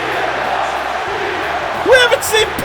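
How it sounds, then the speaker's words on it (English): The crowd in WWE 2K24 wrestling video game gameplay cheers as a continuous roar, with a commentator-like voice and whoops rising over it toward the end. "the crowd is going crazy!"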